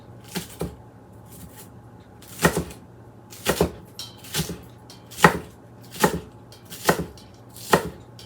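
Diagonal knife chops through vegetables on a board for garden-fresh kimchi, a steady run of about ten crisp, close thuds spaced roughly evenly over a faint background hum.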